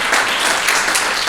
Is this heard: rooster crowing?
no